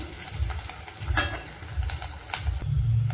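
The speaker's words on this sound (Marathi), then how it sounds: "कांदा चांगला असा लालसर भाजून घ्यायचा।" Chopped onion fries in oil in a cooking pot for a mutton curry, giving a steady nearby sizzle with a few sharp clinks and scrapes of stirring, and no talking.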